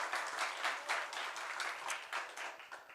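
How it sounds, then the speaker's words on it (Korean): A church congregation claps together during a Sunday worship service, a dense, steady patter of many hands filling the room at moderate distance without any talk. "우리 하나님께 영광의 박수 올려드리겠습니다"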